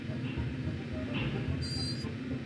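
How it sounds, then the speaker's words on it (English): Steam locomotive running in the Lionel Train Town video game, a low rumbling chug with hissing undertones, steady and fairly close, with a brief high whistle-like tone near the end. "Watch the steam locomotive."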